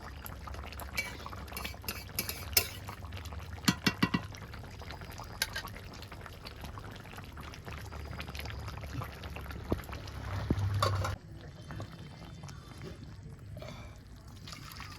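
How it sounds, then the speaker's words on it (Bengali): Cooked hilsa fish curry with green banana is poured out of a pot, with close clinks and scrapes of a utensil against metal over a soft liquid wash. The sound grows quieter near the end. No one speaks. "তরকারি হয়ে গেছে, আমি ঢেলে নিলাম।"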